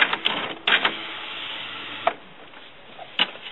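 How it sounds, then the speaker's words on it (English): An Epson dye-sublimation inkjet printer runs its carriage to shift the ink cartridges to the change position. A whirring mechanical motor sound is broken by sharp clicks and clunks, then settles toward quiet near the end. "This way it'll move the cartridges over to the cartridge change position."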